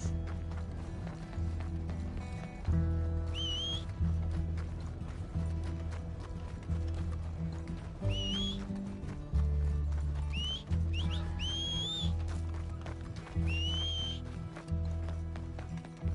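Horses pull a stagecoach in Red Dead Redemption 2: a steady, close clip-clop of hooves runs throughout, with a low rumbling bed and a few high whistling tones on top.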